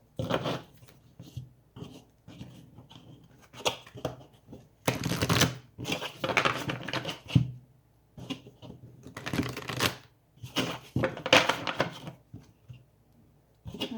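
Tarot cards shuffled by hand in a quiet room, giving repeated bursts of riffling and flicking that come and go in clusters, with short pauses between them and no talk.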